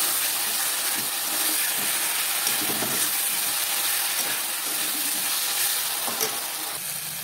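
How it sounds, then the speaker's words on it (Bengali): Potatoes sauté in a thick, oily spice masala with a constant loud sizzle, overlaid by intermittent scraping and stirring of a spatula against the pan. "আমি এবার আলুগুলো দিয়ে দেবো, দিয়ে ভালো করে একটু কিছুক্ষণ কষিয়ে নেবো।"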